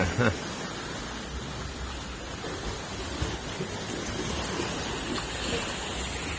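Water in the Saen Saep canal at night laps and washes in a steady, soft rush, with a faint low rumble beneath and brief voices near the start.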